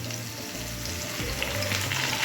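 Potatoes with chopped onion and tomato fry in a pan for a fish curry, giving a steady, close, loud sizzle with low rumbling stir noises underneath, no voices.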